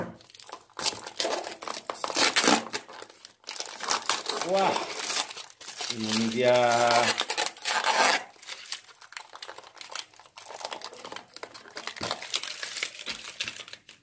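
A cardboard box is cut and torn open with scissors, giving steady crinkling and rasping that runs under an excited voice speaking briefly.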